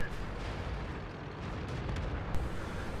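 A tank's gun fires in a video game, a deep low boom with rumbling noise and a brief sharp crack, moderately loud amid steady background engine rumble.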